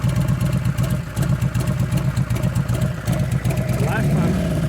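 A rebuilt 2001 Gilroy Indian race bike engine runs with a loud, close, lumpy low thump in a steady rapid pulse, and the revs rise briefly near the end.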